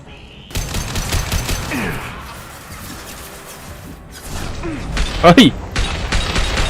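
Gunfire in the video game Mass Effect, loud rapid shots and crashing impacts among mechanical noises, with a short spoken exclamation mixed in.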